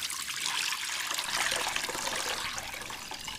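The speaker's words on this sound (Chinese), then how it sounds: "锅中加入适量的清水" Clear water pouring steadily into a cooking pot, a continuous bright splashing stream heard up close with no other sounds.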